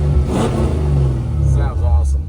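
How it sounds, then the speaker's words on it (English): Engine of a 1972 Chevy K5 Blazer revved a couple of times, a loud rising and falling throaty roar close by, with a voice speaking briefly over it. "Give it a couple little revs here."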